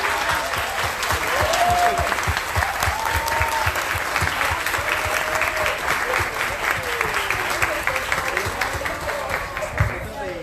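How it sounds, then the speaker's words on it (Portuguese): An audience applauds throughout a lecture at a Social Worker Day event in Recife, 2019: dense, steady clapping from a crowd with a voice speaking over it. "a gente batesse palmas, porque a gente precisa assim festejar o dia de hoje"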